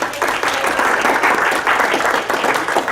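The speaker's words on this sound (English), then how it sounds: "Let's give a round of applause to Kevin." An audience applauds at the end of a teaching talk, with dense, steady clapping from a crowd lasting throughout at an even, moderately loud level.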